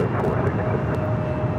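Airliner on runway 24 left at LAX, a steady broadband engine roar close and loud throughout with a faint tonal whine.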